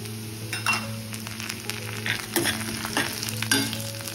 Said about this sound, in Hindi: देखिए लहसुन को हल्का सा हम रोस्ट करेंगे